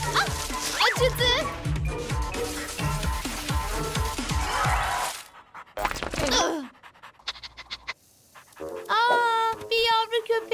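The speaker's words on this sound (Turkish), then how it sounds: "Bir yavru köpek." A cartoon puppy yips and pants in quick bursts, mixed with excited children's voices and music in an animated show, then goes quiet before more chatter.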